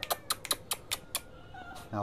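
A plump cat gives a short meow right at the end, after a run of soft, evenly spaced tapping clicks, close and fairly quiet.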